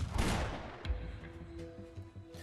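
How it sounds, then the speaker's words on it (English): Gunshots ring out in an Arknights scene, a heavy nearby blast followed by a second sharper shot, then fading reverberation and smaller cracks over a low sustained tone. "The gunshots rang out almost at the same time."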